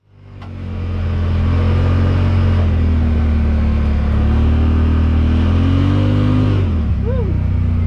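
A Yamaha Wolverine X4 UTV fitted with a new JBS Performance sheave pulls away, its engine drone swelling over the first second into a loud, steady hum, then dipping and shifting pitch near the end.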